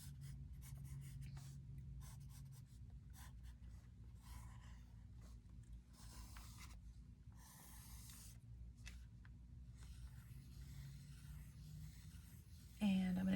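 A pen sketches a simple figure on a collage sealed with Mod Podge, giving quiet, close scratching strokes in short bursts with pauses between them, ending in a brief louder bump.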